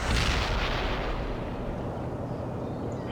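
Missile launch in the video game World in Conflict, a single loud booming blast that decays into a rumbling roar over a few seconds.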